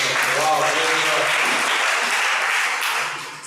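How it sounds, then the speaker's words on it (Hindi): A church congregation at a Sunday evening Hindi service claps in welcome, a dense burst of applause that fades out near the end, with a voice speaking briefly over the start. "आप खुद के लिए ताली बजा के स्वागत कर सकते हैं।"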